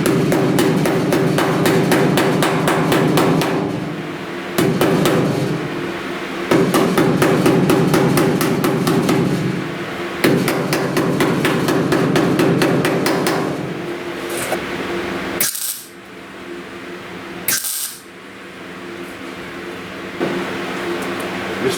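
Rapid metal hammer blows beat out a buckle in the body panel of a 1969 Chevrolet C10 classic truck, coming in dense bursts with short pauses between them, loud and close.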